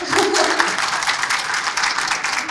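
Loud applause from a seminar audience, dense steady clapping sustained throughout.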